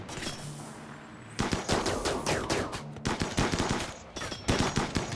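Rapid gunfire in the RimWorld video game, dense bursts of sharp cracking shots in quick succession with brief pauses, loud and continuous over a steady background hiss.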